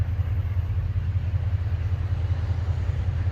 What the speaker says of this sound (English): It's a Range Rover.